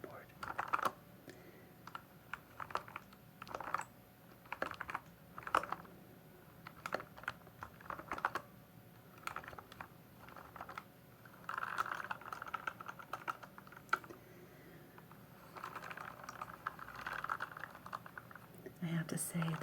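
Brisk clicking keystrokes on a new Sunny mechanical keyboard, close and fairly soft, in irregular bursts while a voice speaks quietly under them.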